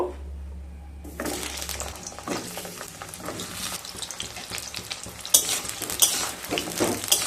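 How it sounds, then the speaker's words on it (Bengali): Pointed gourd (potol) pieces frying in hot oil after potatoes, a loud continuous sizzle and crackle that starts after a low hum, with scraping stirs and sharper pops later on, no talk. "এবার পটলগুলোকে ভেজে নেব"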